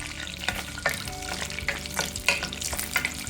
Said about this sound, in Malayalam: അടുത്തത് ഈ സെയിം എണ്ണയ്ക്കകത്തോട്ട് നമുക്ക് പീനട്ടൂടൊന്ന് വറുത്ത് മാറ്റാം.